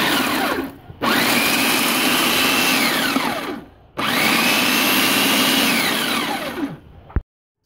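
A blender purees onion with maple syrup for curing bacon, running loud and steady in two long bursts with whining pitch slides as the contents break down, separated by a brief pause and ending abruptly.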